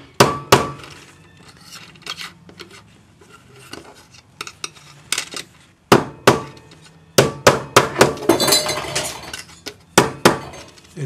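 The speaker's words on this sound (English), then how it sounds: "Now we're going to make it flat. So you can just hammer that on your" A twisted wire bangle is hammered flat on a steel bench plate, giving sharp metallic strikes in uneven bursts, loud and close, with some rapid clusters of blows separated by short pauses.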